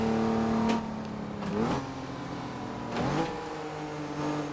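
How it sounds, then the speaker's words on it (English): A video game DeLorean engine revs up in rising pitch sweeps, dropping back between pulls in second gear, steady and without voices. "See, the second gear revs so much higher than you expect."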